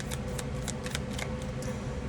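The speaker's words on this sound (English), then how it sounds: "I don't know how long I've been shuffling for" A deck of playing cards is shuffled up close and quietly, with a rapid series of soft riffling snaps and flutters over a low room hum.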